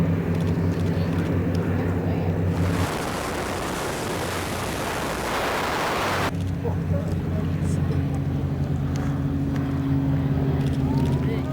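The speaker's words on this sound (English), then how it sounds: "Despite strict instructions not to land, the Catalina touched down on Lake Macquarie." A Catalina flying boat touches down on Lake Macquarie, heard as a loud, broad, rushing roar and splash that builds suddenly and cuts off after a few seconds, framed by steadier engine drone and some talk.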